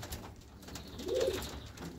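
One racing pigeon, recently treated for salmonella, lets out a short, rounded coo just past the midpoint, over a continuous murmur of loft noise with no speech.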